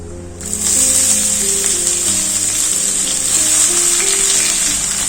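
Chopped onion and tomato, with a little sugar, frying in oil with tempered whole spices: a loud, steady sizzle that flares up as they hit the pan and keeps going without a break.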